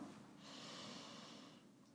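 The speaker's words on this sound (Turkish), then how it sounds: "Tekrar burnundan nefes al." A single slow inhalation through the nose during a yoga session, soft and close, a gentle airy draw lasting about a second and a half with no talking.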